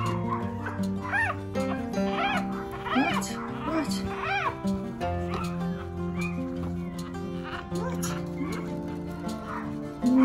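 Newborn West Highland White Terrier puppies whimper and squeal in a litter, with repeated high, thin rising cries close by, while someone talks softly over them.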